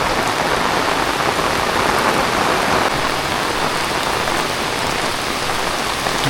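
Heavy evening monsoon rain in the Konkan countryside, an even, close drumming hiss of drops striking surfaces that holds at constant loudness from start to finish, with no voices.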